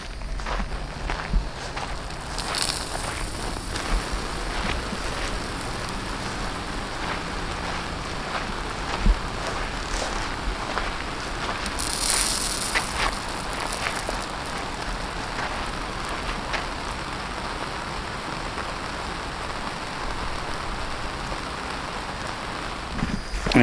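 Irrigation sprays water over cucumber trellises in a garden, a steady rain-like hiss of droplets pattering on leaves and ground throughout, with occasional louder bursts and faint footsteps-like thumps.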